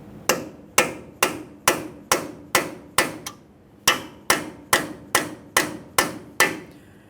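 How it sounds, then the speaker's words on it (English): A hammer and punch tap the axle shaft loose from the wheel bearing on a 2015-2020 Ford F-150, making about fifteen sharp metallic strikes in a steady rhythm, close and loud, with one brief pause midway. "we'll continue on with a hammer and punch"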